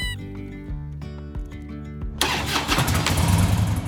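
A Honda Rebel 250 motorcycle engine cranks and catches partway through, rising into a loud, steady rumbling idle over background music, with no talk.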